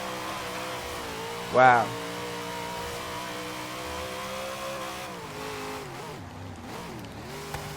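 A Dodge Charger muscle car with a big supercharger blower sticking out of its hood, driven in Forza Horizon 3, holds a loud, steady engine drone with rising revs, and a person briefly exclaims over it.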